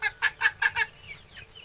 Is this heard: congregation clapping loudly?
no